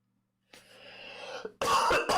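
A person coughs hard indoors, a drawn-out raspy hack building for about a second, then a burst of loud, harsh coughs close to the microphone.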